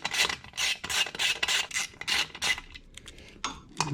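Bolts being worked loose from a Harley Softail transmission top cover, a run of rapid rasping, ratcheting strokes in close succession for about two and a half seconds, then a pause and a couple of shorter scraping bursts.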